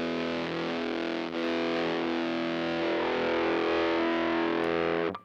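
An electric guitar played through a Little Bear Fuzz distortion pedal rings out as a thick, buzzing sustained chord, held steadily for several seconds before cutting off abruptly.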